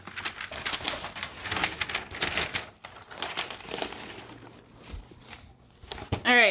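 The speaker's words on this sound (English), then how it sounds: "Okay, gotta turn my paper." A sheet of paper rustles and crinkles as it is handled and turned over on a desk, a run of close, dry scraping and crackling lasting several seconds, ending with a brief louder thump.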